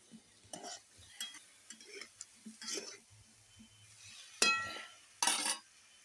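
Food frying in oil while being stirred, with intermittent scraping and clinking of a utensil against the pan and a brief louder sizzle burst near the end, moderately close and fairly quiet.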